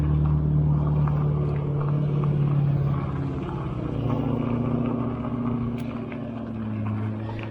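Rush-hour road traffic rumbles steadily nearby, a low continuous drone of passing cars with engines swelling and fading, heard from a trail crossing while riding an electric bike.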